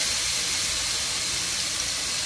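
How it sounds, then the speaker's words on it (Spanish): Goat meat hits a pan of hot oil and sizzles with a steady, loud hiss that holds evenly throughout, with no talking over it. "vamos a agregar un poquito de aceite. Un poquito de aceite. Y vamos a poner nuestro chivo"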